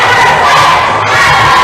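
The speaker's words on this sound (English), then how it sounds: "Crowd's cheering him on." Loud crowd cheering and shouting, children's voices among them, at a provincial top rope climbing finals as a climber works toward the top; a steady, dense roar of encouragement with no pauses.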